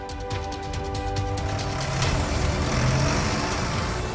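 On a frozen lake in Heilongjiang, a tractor tows a line of tyres across the ice. Its engine drones steadily and fairly close, with a faint rising rev over a few seconds and no voices.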